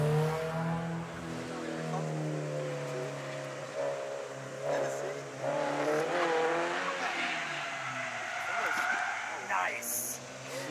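A drift car sliding at a Slide Society drift event, its engine revving and tires screeching in long wavering swells, with people talking over it.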